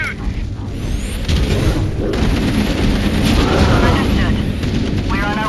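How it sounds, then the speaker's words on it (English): Heavy enemy fire hitting a dropship in the Halo: Campaign Evolved video game, a dense, loud, continuous roar of blasts and rumbling over engine noise, with a voice talking throughout. "Dropship Bravo 22 taking enemy fire! Repeat, we are under heavy fire and are losing altitude!"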